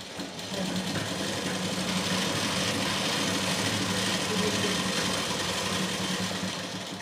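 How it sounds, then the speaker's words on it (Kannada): Sewing machine stitching a blouse sleeve, a steady continuous mechanical whir with fine rapid needle ticking that runs evenly at moderate level for the whole stretch, with no voices. "ನಾವು ಈ ಸ್ಟಿಚ್ಚನ್ನು ಹಾಕಬೇಕಾದ್ರೆ 1 ಇಂಚ್ ಎಲ್ಲಿಗಾಗುತ್ತೋ ಅಲ್ಲಿಂದ ನಾವು ಸ್ವಲ್ಪ ಸ್ಟಿಚ್ಚನ್ನು ಹಾಕ್ತಾ ಬರಬೇಕು"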